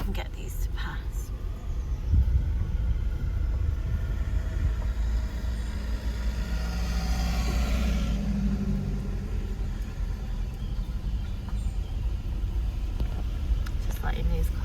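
Cars pass along a road in steady low rumbling waves, one vehicle swelling louder near the middle before fading, with wind and outdoor noise throughout and no clear speech.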